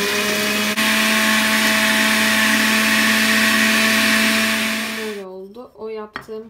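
A blender whirs loudly and continuously as it purees pitted soaked dates, then cuts off abruptly near the end, followed by a brief voice.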